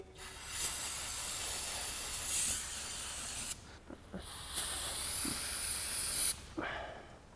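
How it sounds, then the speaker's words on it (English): Several bursts of aerosol spray hiss close by, separated by short pauses, a can of brake cleaner sprayed in repeated blasts over a Toyota Tundra brake fitting. "grab some brake clean, spray this whole area down"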